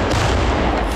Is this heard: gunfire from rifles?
yes